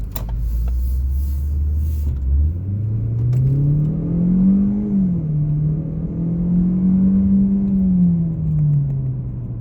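A car engine revs up and holds a steady, throaty drone, rising and falling slightly in pitch, loud and close with no talking.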